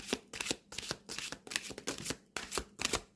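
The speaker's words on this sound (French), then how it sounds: "Moi, je vais me tirer une carte." Oracle cards shuffled and drawn from a deck, a run of close, crisp riffling bursts separated by short pauses, with no voice over them.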